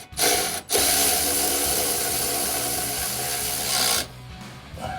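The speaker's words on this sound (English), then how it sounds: "we want to tighten these brackets first" Tool tightening bolts on drop step brackets for a Silverado 1500 pickup, a loud continuous grinding, rasping whir after a brief opening burst, stopping abruptly with a short clatter at the end.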